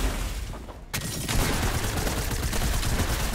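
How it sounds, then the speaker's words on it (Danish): Gunfire in the video game Fortnite comes as bursts of rapid shots over a dense, noisy game mix, a sharp volley starting about a second in and continuing loudly. "jeg står på afstand og skyder"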